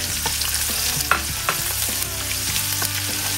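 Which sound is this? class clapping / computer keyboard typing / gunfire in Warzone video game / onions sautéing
onions sautéing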